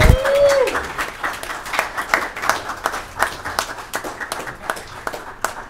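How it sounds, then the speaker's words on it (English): Audience applause at a Union County Freeholder meeting in New Jersey, honoring a presentation to a former freeholder: a steady round of many hands clapping that fades into scattered claps, with a brief tone at the start. "Let's give her a big round of applause."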